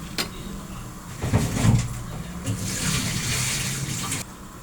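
Water is poured onto rice and browned vermicelli in a pan, a splashing pour with a few clatters of the pot, rising then settling into a steady close trickle.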